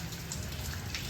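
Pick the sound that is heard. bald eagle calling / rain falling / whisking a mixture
rain falling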